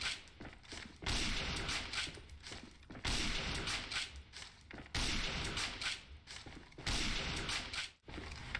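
Sniper rifle fire from AVA, a stopping sniper used while moving: loud gunshot bursts repeating about every two seconds, each a sharp crack followed by a mechanical bolt-action ratchet, with no talk.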